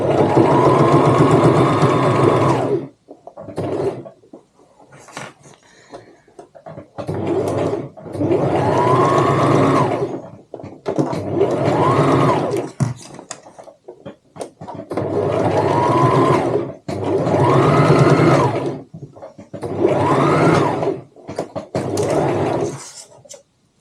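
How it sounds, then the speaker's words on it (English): A sewing machine stitches around the top of a tote bag in several bursts of rapid mechanical whirring, each a few seconds long, separated by short pauses, close and clear. "sew the whole way around the top of the bag until you get to the clip"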